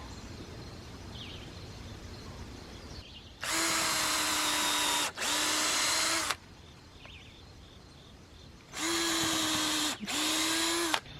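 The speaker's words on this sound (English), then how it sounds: "now I'm just going to take a drill bit and pre-drill a hole in here" A power drill whirs loudly in two pairs of steady bursts, pre-drilling a hole while mounting a swing, each run briefly stopping and restarting, with quiet room noise between.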